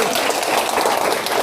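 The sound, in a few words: applause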